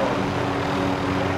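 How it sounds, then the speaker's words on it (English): A helicopter in the video game Call of Duty: Modern Warfare gives off a steady, loud, droning engine and rotor roar that fills the whole short moment without any speech. "let's go get this other chopper right there"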